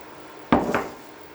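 A spoon stirring butter and half-and-half in a pot gives a single short scraping clink against the pan with a quick follow-up scrape, close and distinct in an otherwise quiet kitchen.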